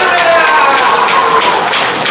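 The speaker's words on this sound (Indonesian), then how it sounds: "Tepuk tangan dong." Hands clapping from a group of people at a live staged event with a presenter, a dense, steady patter that continues for about two seconds with voices mixed in.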